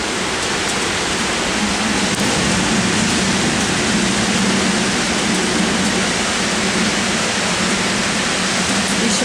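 Steady rain falls over Toronto as a dense, even hiss that stays loud and unbroken throughout, with no talking.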